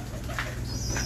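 Pigeons coo softly among faint background noise, with a low steady hum underneath, in a brief close snippet without speech.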